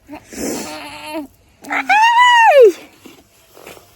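Young lambs bleat in a farm setting, with a rising, wavering cry standing out near the middle, while a voice talks around the animal calls.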